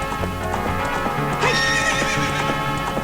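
A horse in The Legend of Zelda: Ocarina of Time Master Quest neighs loudly in a long, shaky whinny over steady hoof clip-clops and background game music, with no talking.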